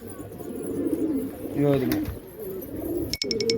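Racing pigeons coo softly with low, throaty warbles amid background noise and faint voices, followed by a brief click and a few short high beeps.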